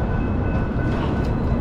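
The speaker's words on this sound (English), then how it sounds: "you can see the train is coming" Train rolling slowly along the tracks on a rundown street in East St. Louis, heard as a steady, dense low rumble with a faint high whine running through the whole stretch, no talk over it.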